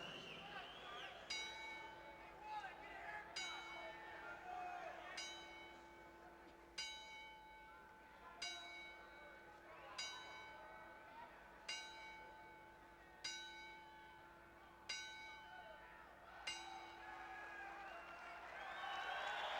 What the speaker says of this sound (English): the ringing of the bell for the final 10 count